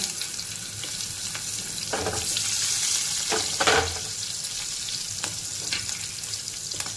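Asafoetida and sliced green chillies frying in hot oil for a dry spring onion vegetable dish, giving a continuous close hiss and crackle with a few sharper spatters midway, no speech.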